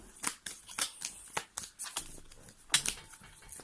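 Tarot cards are shuffled and drawn by hand in a quick series of soft papery flicks and snaps, close and quiet, with small rustles between the sharper strokes.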